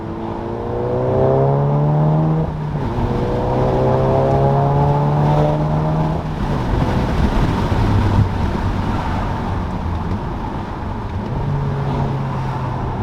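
A 2017-style MK7.5 VW Golf R with an APR exhaust and IE downpipe pulls away and accelerates, its engine drone rising in pitch through gears with wind noise throughout, heard from inside with windows open.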